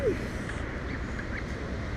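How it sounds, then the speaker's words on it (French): Farm geese on the attack, honking and squawking at close range over a steady rustling background, with the calls continuous for a couple of seconds. "On se fait attaquer par des oies les gars,"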